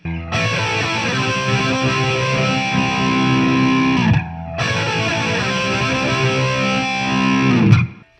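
Loud electric guitar runs through an MXR EVH Flanger pedal followed by distortion, two sustained, heavily saturated chords with a whooshing, swirling flange sweep, each ending in a short pause.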